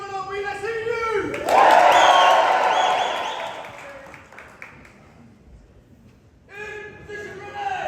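A large crowd cheers, whoops and claps loudly in a gymnasium at a passing out parade, the roar swelling then fading, with a shouted voice before and after.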